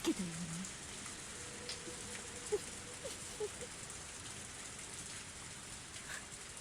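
Steady rain falls in the Higurashi: When They Cry visual novel game, a soft continuous hiss with a few faint scattered drips and taps, quiet and unbroken throughout.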